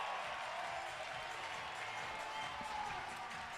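Crowd at an Arizona State vs. Baylor college baseball game cheering and clapping after a solo home run, a broad, steady roar heard from a distance that holds evenly for several seconds.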